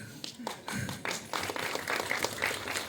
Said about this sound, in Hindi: जोरदार तालियां सनी सर के लिए